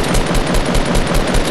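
Rapid shotgun blasts in Fortnite Battle Royale solo mode ring out loud and dense in a fast, continuous burst of repeated gunfire with no talking.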